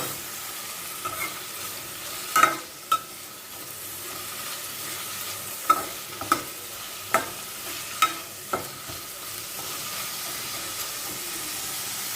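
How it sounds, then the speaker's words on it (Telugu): Onion and tomato frying in a pan with mustard and cumin seeds, a soft steady sizzle broken by several sharp stirring clacks of a spoon against the pan. "లైట్గా ఆవాలు జీలకర్ర వేసేసి ఇప్పుడు ఇందులో ఆనియన్ టమాటో వేసేసుకొని"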